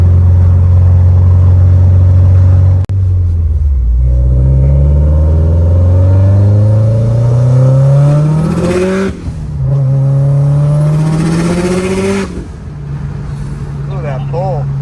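A 600 whp Subaru STI accelerates hard, heard loud from inside as the engine note climbs through two quick gear shifts before easing off, with voices in the cabin.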